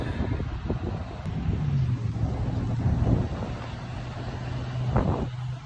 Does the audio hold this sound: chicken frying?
no